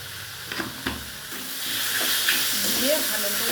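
Mushroom curry with chilli powder, coriander powder and sugar frying in a pan, a few spoon scrapes giving way to a steady, loud sizzle and hiss.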